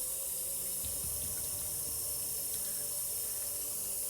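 Tap water runs steadily into a sink as rinse water during film developing, a continuous faint hiss and trickle with no speech.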